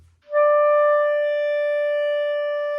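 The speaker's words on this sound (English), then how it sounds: "you just have to choose one note from the clarinet and sustain it until you run out of air" Clarinet holds a single sustained high-register long tone, a pure steady note that starts cleanly after a brief pause and rings evenly at close range, fading only slightly.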